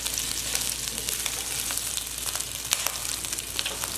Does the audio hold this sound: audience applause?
no